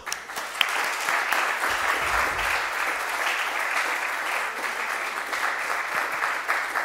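An audience claps steadily in a room after a team is thanked at a farewell gathering for a bishop, a dense, even applause that stays loud and sustained throughout without talk.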